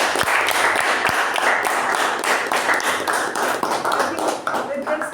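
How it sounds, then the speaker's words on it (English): A small meeting audience applauds a Toastmaster, giving several seconds of dense, steady clapping with individual sharp hand claps standing out, fairly close and even in level. "a big round of applause to Toastmaster Chetan"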